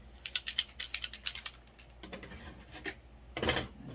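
A spray paint can with a mixing ball inside is shaken in quick bursts, producing a rapid series of sharp rattling clicks, a pause, then one more brief shake, close and fairly quiet with no talking.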